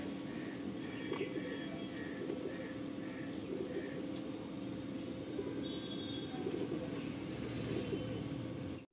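Madrasi Andhra pigeons in a loft in Garia, Kolkata, cooing in soft repeated low phrases under a constant background hum, with faint chirps.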